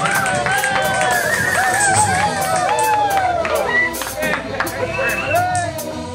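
A church congregation acclaiming God, loud crowd voices rising and falling in overlapping shouts and cries of praise, with scattered clapping and a steady, excited murmur throughout.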